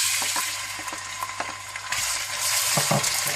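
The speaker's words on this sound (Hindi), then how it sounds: "प्याज को आप हल्का सा ब्राउन कर लें" Chopped onions with cumin seeds frying in hot ghee or oil, a loud continuous close sizzle broken by a few scrapes and stirs.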